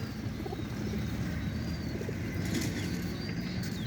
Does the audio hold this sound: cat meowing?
no